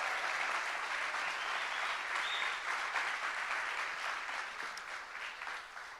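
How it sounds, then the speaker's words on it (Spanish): A church congregation applauds for a band's lead singer, a dense, steady wash of clapping that swells and holds before gradually thinning toward the end. "denle un aplauso si tanto lo quieren"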